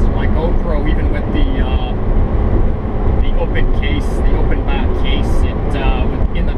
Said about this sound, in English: because of the sound of the engine and everything else where I have the camera mounted on the dash